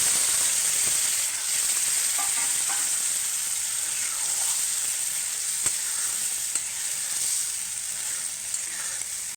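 Chana dal tipped into spice paste that has been fried until the oil separates, giving a bright continuous sizzle with a few sharp clicks of a utensil and no voices.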